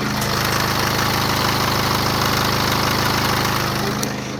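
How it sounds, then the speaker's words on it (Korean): An imported 5 GT coupe-style sedan's engine idles steadily up close with the hood open, a loud, even mechanical rumble with a regular pulsing knock, continuous throughout without any voices. "엔진룸 개폐했습니다. 엔진음 들려드릴게요."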